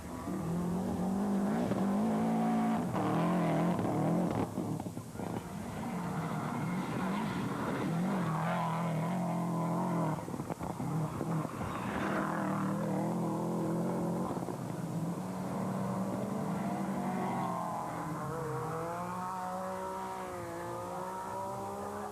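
A rally car driven hard on a stage at Knockhill during the 2001 Nations Cup Rally, its engine loud and close as it rises and falls through gear changes and corners, with no talk over it.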